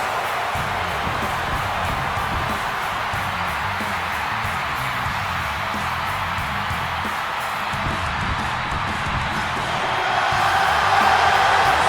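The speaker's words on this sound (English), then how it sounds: "And this capacity crowd just exploded." Capacity arena crowd in the wrestling video game WWE 2K26 at a Seth Rollins versus CM Punk match, a continuous roar of cheering that swells slightly near the end, with no talk.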